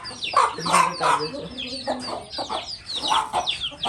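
Desi hens clucking in a small backyard poultry pen, a close, busy run of repeated clucks and squawks from a few birds, with no talk over them.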